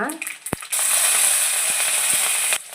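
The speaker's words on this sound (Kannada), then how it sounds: "ನೋಡಿ ಹಸಿಮೆಣಸಿನ್ಕಾಯಿ ಫ್ರೈ ಆಗಿದೆ" Green chillies and chana dal frying in hot oil in a pan for masala dosa potato palya, a steady loud sizzle that swells in after a few brief clatters and holds evenly with light stirring clicks.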